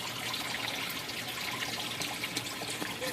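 Water circulating through a homemade aquaponics system, a continuous close rushing and trickling wash that holds steady throughout.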